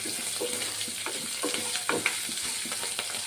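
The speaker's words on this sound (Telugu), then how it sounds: "అల్లం ముక్కలు 1 నిమిషం వేయించుకుందామండి." Ginger pieces frying in a pan while being stirred for puri curry, a steady close sizzle broken by scraping stir strokes and small crackles, with no voices.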